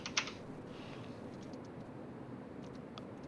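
Keyboard keys clicking while Java code is typed, a quick burst of taps at the start followed by sparse, quiet keystrokes over a soft background hum, with no voices.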